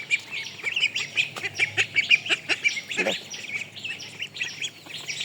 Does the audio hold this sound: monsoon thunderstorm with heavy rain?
no